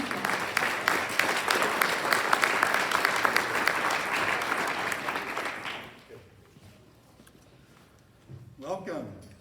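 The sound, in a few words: audience applause welcoming Rabbi Simon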